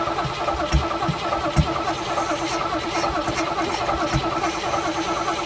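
A 1966 Chevrolet El Camino engine cranks and fires close by, settling into a loud, steady rough running with uneven knocks, and no one speaks.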